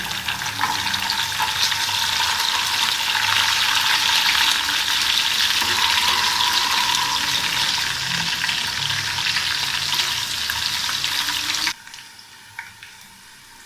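Garlic fries in hot oil for a Punjabi daal chawal tadka, giving a loud, continuous close-up sizzle with crackling spatter that stops abruptly near the end, leaving quiet.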